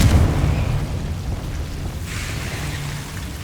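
The Confringo fire spell bursts in Hogwarts Legacy as a deep, rumbling explosion that starts at full force and trails off into a long, roaring, crackling wash.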